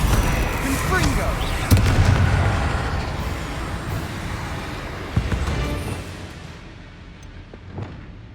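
Confringo fire blast spells go off in a video game as a string of explosive bursts and thuds over a dense, rumbling din, with spoken incantations heard over it and the noise fading toward the end.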